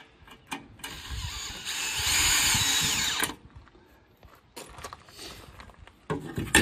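A power drill drives screws into plywood in a workshop, the motor whirring in short bursts with a longer sustained run in the middle, then brief revving pulses near the end, fairly close and with no talk.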